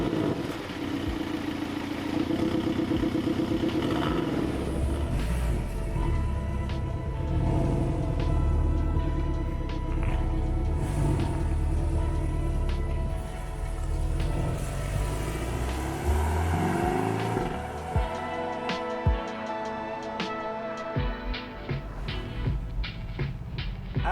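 A Porsche 718 Boxster flat-four engine, top down, starts up and settles into a deep rumbling idle, then is blipped and revved hard several times, loud and close, with no voices.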